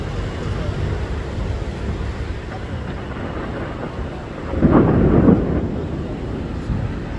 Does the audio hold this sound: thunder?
yes